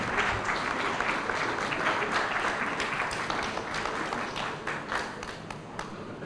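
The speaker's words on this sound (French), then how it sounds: "des acclamations." Steady, dense applause from an audience at a science and technology award ceremony, sustained at even loudness throughout with a slight fade near the end.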